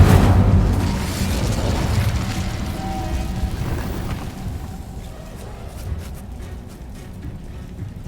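Fiery Incendio spell blast in Hogwarts Legacy, a heavy booming burst at the start that decays into a crackling, rumbling tail and fades over several seconds.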